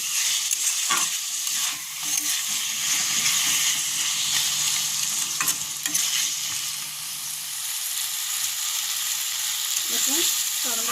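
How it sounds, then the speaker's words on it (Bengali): Chopped tomato frying in a pan as the base for restaurant-style palak paneer, giving a steady close sizzle and hiss with occasional stirring scrapes and a little talk. "টমেটোটা ভাজা হয়ে গেছে।"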